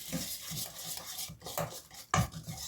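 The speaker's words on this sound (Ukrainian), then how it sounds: "Все добре змішую, перемішую до однорідності." A spoon scrapes and clinks against a bowl as a batter with flour and starch is stirred, with a few sharper knocks in an irregular rhythm.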